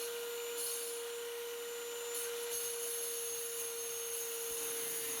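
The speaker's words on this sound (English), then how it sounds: "I just kind of want to show you guys how long it takes to cut through this with this saw." A cheap Harbor Freight rock saw cuts through gemstone rough underwater, giving a steady whining hum with a constant high tone over a hissing grind, continuous and moderately loud with no talk.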